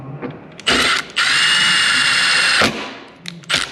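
A power drill driving screws to fasten hardware back onto a truck's third brake light, two short bursts then one sustained whirring run lasting about 1.5 seconds, close and loud with tool clicks around it.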